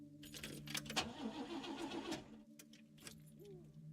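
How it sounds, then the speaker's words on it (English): A car engine in a video game cranks and fails to catch, with keys jangling and a rough starter churn rising then cutting off, followed by a quieter second attempt. "Start the car."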